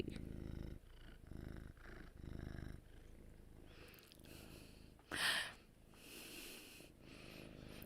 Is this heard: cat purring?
yes